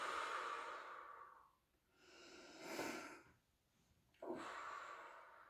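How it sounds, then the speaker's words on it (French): Slow breaths in and out during a Pilates back exercise with arm rotations, several soft airy inhales and exhales close to the microphone, rising and falling in a calm rhythm with no talking. "Inspirez, expirez."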